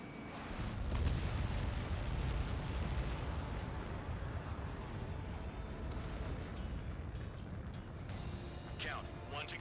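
Missile impact in the flight combat game Ace Combat 7, a deep rumbling explosion that swells and rolls on under continuous jet and engine roar, with faint game radio chatter.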